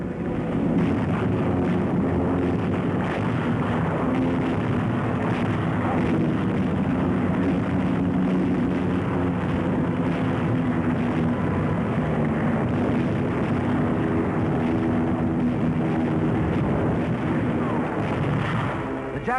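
Wartime combat around the aircraft carrier USS Princeton off Leyte in 1944, with aircraft and bombing: a dense, continuous roar of engines, blasts and gunfire, loud and unbroken throughout, with no clear talk.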